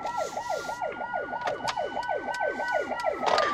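A wailing ambulance siren sweeps up and down in quick, rapid cycles, heard from inside a Mercedes-Benz EQA electric car in slow traffic, with a steady engine hum and a few clicks.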